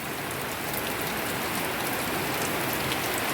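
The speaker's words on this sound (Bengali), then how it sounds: "আর এই পরিমাণে বৃষ্টি হচ্ছে।" Heavy rain pours down steadily during a February downpour, a dense, close hiss of drops striking surfaces that stays unbroken and even for the whole stretch, with no voices.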